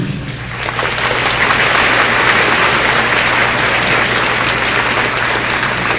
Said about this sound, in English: Let's please give a round of applause again for phenomenal execution